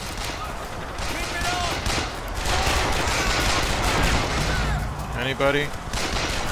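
Dense, continuous gunfire fills a BioShock Infinite battle aboard a war blimp, with rapid overlapping shots and bursts at loud, steady intensity, while a voice calls out briefly near the end.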